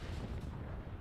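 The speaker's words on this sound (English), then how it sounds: "So many explosions." Explosions rumble in a Call of Duty match, a dense, heavy low roar of blasts packed into a single loud second with no voices.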